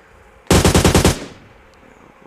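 A rapid burst of automatic gunfire from PUBG Mobile Lite, about six or seven loud, evenly spaced shots over roughly half a second, then a fading tail into quiet game ambience.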